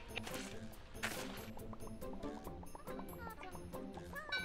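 A chicken clucking in a farming video game, with repeated short clucks over busy game sounds and background music, while a person talks over it.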